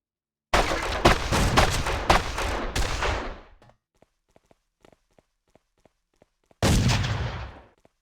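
Snipers open fire in the mafia shooter Made Man, with a dense, loud volley of shots that fades out, then a run of faint, evenly spaced ticks, then another sharp volley that decays.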